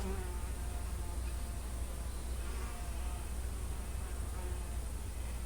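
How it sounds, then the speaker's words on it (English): A wasp buzzes close to the camera during an outdoor yoga hip practice, a constant droning hum that holds steady and fairly loud throughout with no talking. "there was a wasp by my camera"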